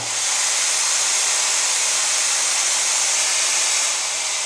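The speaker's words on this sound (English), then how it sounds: "It is much quieter than your regular hair dryer." A Brio Vento hair dryer blowing steadily on its high setting, a loud constant rushing hiss with a low hum, close and unbroken.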